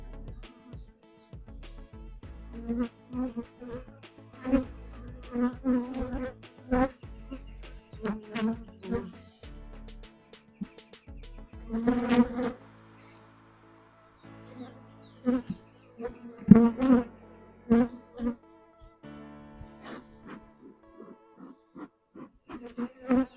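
Honey bees buzzing while a nuc colony is installed into a hive, a steady insect drone close by with repeated short bursts and louder swells as frames are handled, occasional knocks and faint voices.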